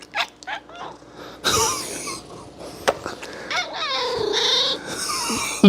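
A cat makes a string of odd, squeaky chirps and warbling meows, close by, with short breathy bursts between them.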